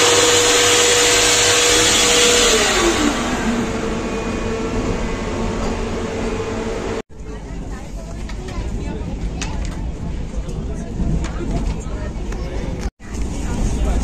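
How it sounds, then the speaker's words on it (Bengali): A hand dryer in the toilet of a Vande Bharat Express train blows with a loud, steady whoosh that drops away halfway through, leaving the quieter hum and rattle of the moving train. "এটা হচ্ছে হ্যান্ড ড্রায়ার।"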